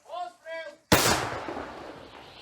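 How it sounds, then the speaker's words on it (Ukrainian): A brief shouted voice, then one sharp, powerful artillery shot booms out and rolls away over the next second or so. "Постріл!"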